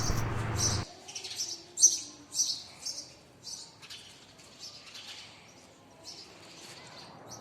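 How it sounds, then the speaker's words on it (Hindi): House sparrows squabble in a fight, giving a rapid series of sharp, high chirps that come in bursts over several seconds, with a brief rush of louder noise at the start and no talking. "चलिए आपको दिखाती हूँ चिड़ियाओं की एक जबरदस्त लड़ाई"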